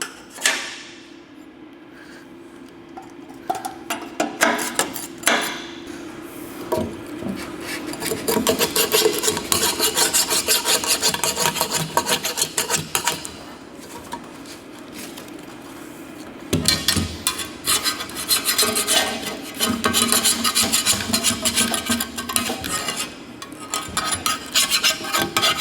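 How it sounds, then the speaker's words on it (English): A putty knife scrapes old silicone off a panel in repeated rough, rasping strokes, close and fairly loud, with short pauses between bursts of scraping. "Just using a putty knife, just scrape all the silicone off so that you can have a fresh seal when you replace it."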